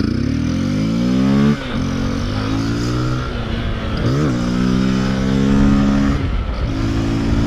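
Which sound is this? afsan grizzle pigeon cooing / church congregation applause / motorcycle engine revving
motorcycle engine revving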